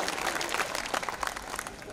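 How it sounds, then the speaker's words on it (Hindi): An audience claps at a Hindi kavi sammelan poetry gathering, a dense, steady patter of many hands filling the whole moment at moderate loudness, with no voice over it. "ताली बजाओ"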